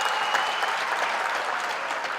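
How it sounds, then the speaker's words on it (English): Graduation ceremony crowd at Walter Sisulu University in Mthatha breaking into a round of applause for new PhDs, a dense, even roar of clapping throughout. "Can you give that a round of applause?"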